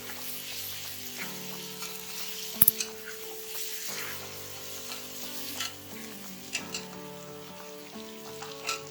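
Mutton koftas and golden-brown onions fry in a pan, a steady close sizzle broken by scraping stirs, with a sharp clatter near the third second and a few later utensil knocks.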